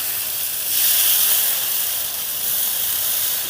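Rava dosa batter sprinkled onto a hot pan, a bright continuous sizzle and hiss that swells as more batter hits the surface, close and steady with no talk.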